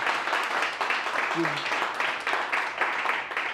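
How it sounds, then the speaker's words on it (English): An audience applauds the three speakers at a Berlin Innovation Agency event, a steady, even wash of clapping that holds throughout, with a voice briefly heard within it. "Can I have a round of applause for all three speakers?"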